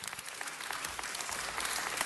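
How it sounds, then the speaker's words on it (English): Audience applause at a city council meeting, dense continuous clapping from a room full of people, fairly soft and even with no voices over it. "Let's give them a round of applause."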